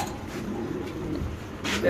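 A pair of Beauty pigeons kept for sale coo softly in a low, continuous murmur throughout the short stretch, close by and fairly quiet.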